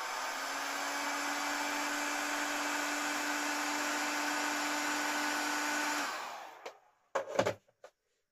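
Heat gun blowing hot air onto a cable connector for analogue interconnects, a steady loud whooshing roar with a constant hum running for about six seconds, then cutting off, followed by a few brief clicks and handling knocks.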